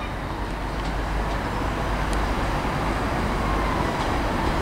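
A four-coach Class 158 diesel multiple unit rumbles past nearby at Wolverhampton station, a steady heavy diesel drone with rolling low-end noise and no talking.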